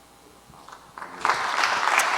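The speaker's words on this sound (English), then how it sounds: "let's give a big clap" Applause from an audience at a fintech show begins sparsely with a few claps, then swells into fuller, steady clapping that continues to the end.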